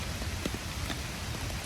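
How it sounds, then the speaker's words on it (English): Steady rain patters down, a dense wash of droplets with a few sharper taps standing out. "It won't quit raining"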